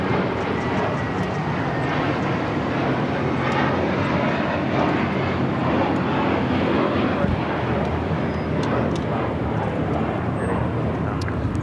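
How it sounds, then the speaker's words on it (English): A JetBlue Airways Airbus A321 takes off from LAX bound for Boston, a continuous broad roar of jet engines that holds loud and steady throughout. "This is JetBlue Airways Flight 688 taking off to Boston on the A321"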